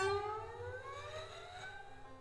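Shimmering metallic tones sweep and slide across piano strings, a sustained wavering ring that slowly fades, with no voices.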